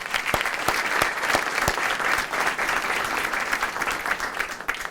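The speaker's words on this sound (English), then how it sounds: "I'd just like to give one more round of applause to all the students and the great speakers we've had this evening." A banquet audience at a scholarship anniversary event claps steadily for students and speakers, a full wash of applause with a few sharp, close individual claps standing out.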